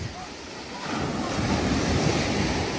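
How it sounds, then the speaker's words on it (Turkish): Strong sea waves breaking on a beach, a steady roaring surf that swells louder partway through, with wind buffeting the microphone and no talk. "Çok güçlü dalgalar. Çok dev dalgalar çocuklar gördünüz mü?"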